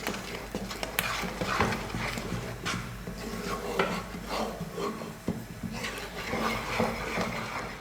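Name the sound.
stirring gram flour sweet mixture in a pan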